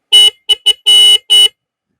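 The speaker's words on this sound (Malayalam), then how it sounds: "ഇതിന്റെ ഹോൺ ഞാൻ കേൾപ്പിച്ചില്ലല്ലോ" A Yamaha RXZ motorcycle horn honks five times in quick succession, short and long beeps mixed, loud and close with no other sound.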